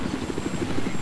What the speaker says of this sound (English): It's the party chopper.